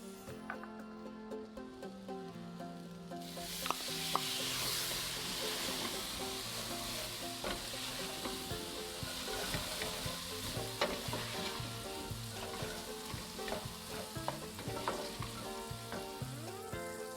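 Roughly chopped tomato hits a pan of onions for chana masala, jumping from quiet cooking into a loud, close sizzle that keeps crackling under intermittent stirring and scraping.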